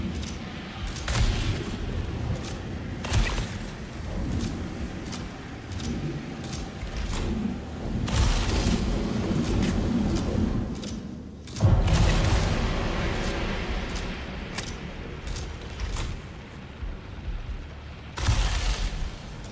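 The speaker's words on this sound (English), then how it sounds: "that sounds like we've got gunfire on this." Scattered video game gunfire and muffled explosions boom over a constant rumbling background, with sharp cracks recurring every few seconds.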